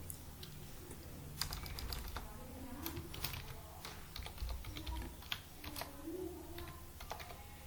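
Fingers tap out a password on a computer keyboard, the clicks coming in quick irregular bursts over a low steady room hum.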